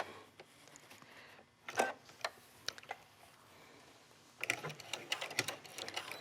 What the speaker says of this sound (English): So here I'm just going to stitch